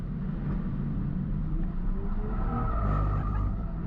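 A Toyota GR Supra or GR 86 drives in circles, its engine droning loud and low throughout while tires scrub and squeal faintly on the pavement.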